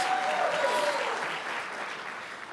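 An audience at an athletics hall of fame ceremony applauds and cheers, a dense wash of clapping that slowly eases off, fairly close and loud with no talking.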